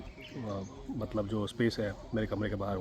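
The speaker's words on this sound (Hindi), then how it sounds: "वहाँ पे बस बर्ड्स की आवाज़ सुन रहा हूँ" Birds sing and chirp in the open space outside a room at a camp near Corbett, with repeated bright tweets and calls at close to middle distance while someone talks quietly over them.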